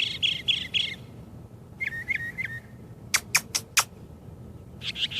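Outdoors in the USA, a songbird gives a varied run of calls: a burst of rapid chirps, then a short whistled trill, four sharp separate tweets and a final quick flurry, clear and close against low background noise.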